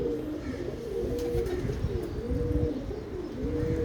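A Lakha pigeon coos close by in repeated soft, throaty rolling calls with a steady rhythm, heard alone over faint background.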